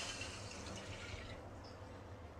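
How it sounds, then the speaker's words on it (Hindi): About 250 grams of water is poured into a kadhai to make jaggery syrup, a steady, close splashing pour heard alone. "चाशनी बनाने के लिए सेम कढ़ाई में पानी डालते हैं"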